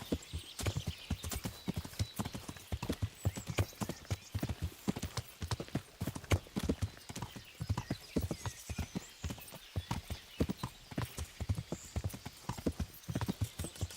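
Horse hooves clip-clopping in a steady, brisk rhythm while riding in the medieval video game Kingdom Come Deliverance, loud and close, continuous throughout, with faint voices now and then.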